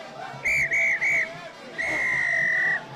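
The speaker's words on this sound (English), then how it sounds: "And is that the long whistle?" A referee at a Kandy SC versus Navy SC club rugby match blows three short whistle blasts followed by one long sustained final whistle, loud over a low crowd murmur.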